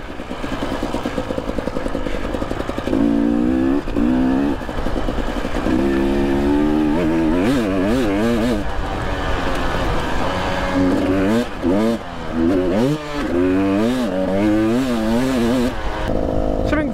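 A KTM 250 TPI two-stroke dirt bike rides a winter trail, its engine loud and close, revving up and down in sweeping waves as it works through flowing, fast sections, with no talking.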